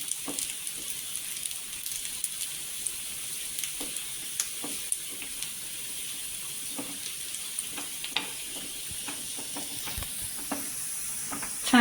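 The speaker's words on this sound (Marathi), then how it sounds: "छानपैकी तळसवली आहे पण ही लसूण" Garlic frying in hot oil for a whole masoor dal curry tempering crackles in a steady close sizzle, with frequent sharp pops and spits scattered throughout and no voices.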